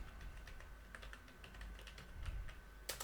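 Fingers type on a computer keyboard while filling in a table in MS Access. The keystrokes are quiet and steady and come in quick runs, with a slightly louder tap at the end.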